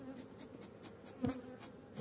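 A honeybee swarm in a hive, seen during a feeding cycle, hums with a faint, steady buzz over a couple of seconds, with a slightly louder swell near the middle.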